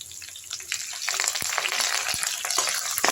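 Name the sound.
sautéing curry leaves and garlic in oil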